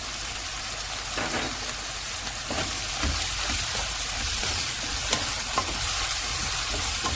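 Rice for Singaporean rice being stir-fried in a pan with tomato paste, chili sauce, soy sauce, black pepper and salt: a steady close sizzle and hiss with repeated scraping stirs throughout, and no voices.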